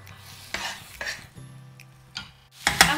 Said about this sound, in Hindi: अंडे ऐड करने के बाद हम इन्हें अच्छे से मिक्स कर लेंगे और अच्छे से भूनेंगे